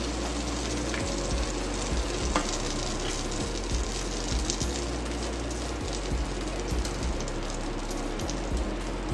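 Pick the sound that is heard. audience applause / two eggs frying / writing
two eggs frying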